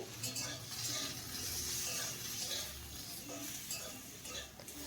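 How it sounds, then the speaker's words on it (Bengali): Okra and potatoes fry over a medium flame with a soft, continuous sizzle and occasional stirring scrapes in the pan. "এখন আবারও 2-3 মিনিট এইভাবে মিডিয়াম ফ্লেম করে ভেন্ডি আলুটাকে ভেজে নিতে হবে।"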